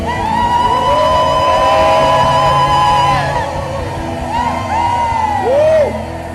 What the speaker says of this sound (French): nous poussons des cris de joie